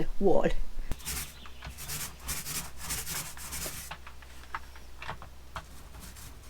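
Leftover paint brushed onto a wall inside an old camper truck: a run of close, dry rubbing strokes in repeated bursts, with a brief spoken word near the start.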